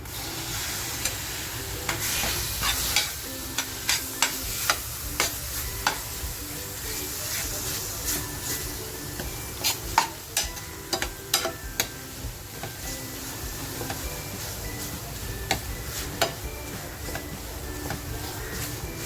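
Mutton masala frying in a pan, with tomato added and stirred, gives a constant sizzle broken by repeated scraping stir strokes, close and fairly loud.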